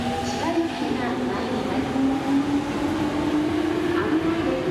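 A Chiba-bound Chuo-Sobu Line train rolls steadily into Kameido Station platform 2 with a continuous rumble and a rising electric whine, close by, as people talk faintly in the background.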